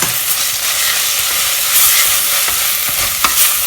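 Chickpea and fenugreek pulao with boiled black chana, rice, methi and tomatoes being stirred in a hot pan, a steady close sizzle with scraping spoon strokes and soft clinks throughout.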